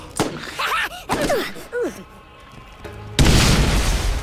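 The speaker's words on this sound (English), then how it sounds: "they like grab a grenade and like pull the pin on it and just run towards you, and then they commit suicide while trying to blow you up" A heavy boom bursts out near the end, a grenade exploding from a suicide psycho in the video game Borderlands, loud and sustained after a stretch of squeaky, chirping game noises.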